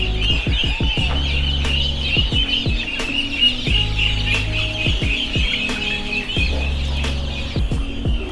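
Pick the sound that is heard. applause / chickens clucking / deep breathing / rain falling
chickens clucking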